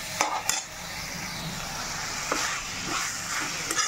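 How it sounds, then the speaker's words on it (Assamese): Eggplant chops coated in gram flour batter frying in hot oil in a home kitchen, a steady close sizzle with a few sharp clinks of a utensil against the pan. "আৰু এতিয়া বেঙেনা চপকেইটা ভাজি ল'ম।"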